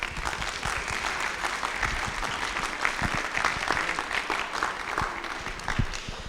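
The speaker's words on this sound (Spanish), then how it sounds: "Les pido un aplauso para él," An audience applauds steadily at a spoken event in Mexico City, a dense, even clapping from many hands that holds at a moderate level throughout without any talking.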